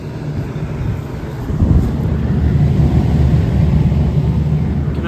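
A York Champion tabletop heat pump that is freezing up, with a clogged condenser coil, runs as a steady low rumbling drone with a whooshing airflow, continuous and fairly loud outdoors near the beach, with no voices.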